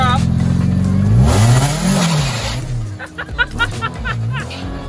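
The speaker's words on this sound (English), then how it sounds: "You want to hear a clutch drop?" On a Mazda Miata drift car, the clutch drops and a nearby engine revs hard. The revs climb, fall and sputter in quick surges, with voices briefly audible underneath.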